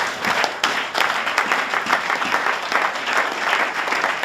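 A church congregation claps steadily for a few seconds, a dense, loud wash of applause indoors with no voices over it.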